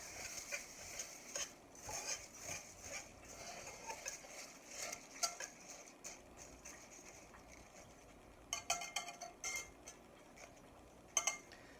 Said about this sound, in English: And we're going to stir this up gently.